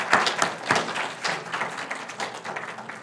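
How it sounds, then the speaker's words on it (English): Applause for family and friends at a graduate hooding and pinning ceremony, scattered claps from a modest crowd with distinct individual hand smacks standing out, moderately close and uneven. "So let's give them a round of applause as well."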